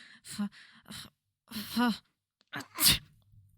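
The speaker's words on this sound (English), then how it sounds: "he sneezed" A sharp, breathy sneeze bursts out near the end, following a few soft vocal sounds and breaths; close and fairly loud.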